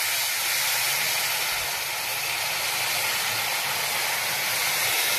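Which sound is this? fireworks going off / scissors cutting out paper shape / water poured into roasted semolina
water poured into roasted semolina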